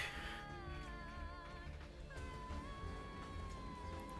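Cat meows from a Cat TV program play over background music, a few drawn-out calls in close succession at moderate level.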